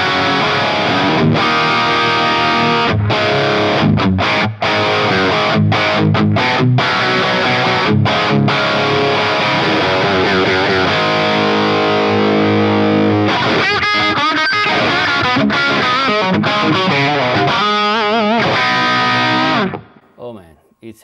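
Electric guitar played through a Fractal FM3 modelling a jumped Marshall plexi into a greenback cab: loud, distorted chords and riffs with sharp stops and ringing sustains, fading out at the end.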